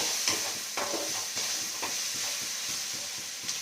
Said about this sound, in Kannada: ಶುಂಠಿ ಬೆಳ್ಳುಳ್ಳಿದು ಹಸಿ ವಾಸನೆ ಹೋಗೋ ತನಕ ನೀಟಾಗಿ ಫ್ರೈ ಮಾಡ್ಕೋಬೇಕು